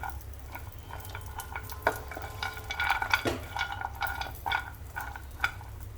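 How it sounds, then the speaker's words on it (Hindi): Raisins, cashews and almonds dry-roasting in a pan over low flame, stirred steadily with a spoon that scrapes and clicks against the metal under a soft, continuous sizzle. "लो फ्लेम पर इसे इसी तरह से चलाते रहें।"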